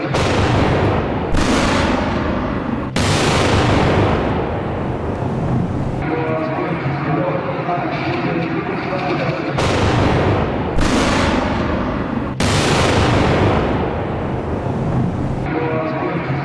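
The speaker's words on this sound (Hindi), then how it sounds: "इस धमाके के बारे में कहा जा रहा है कि आत्मघाती हमला है।" A suicide bomb blast in Quetta, Pakistan: a series of heavy explosive booms, each a sharp loud crack trailing into a rumbling roar, repeating several times as if the same blast is replayed.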